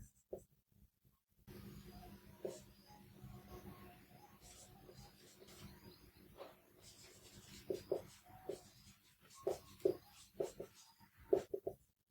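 Pen or marker writing out a maths solution for a quadratic equations problem, a steady scratching with short taps and strokes that grow busier and more clustered toward the end, close and clear with no talk.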